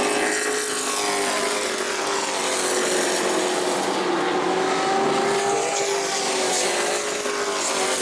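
Sportsman race cars at speed on the New Smyrna track, a steady loud roar of several engines with tire noise, continuous throughout and with no voices.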